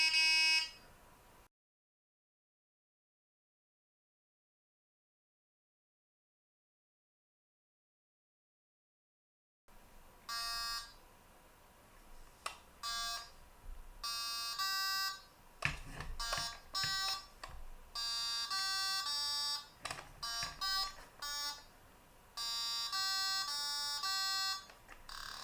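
A 1980s MB Pocket Simon handheld electronic game sounds short bursts of bright electronic tones, with a brief blip, a long silent gap, then a rapid irregular run of beeps as its buttons are pressed.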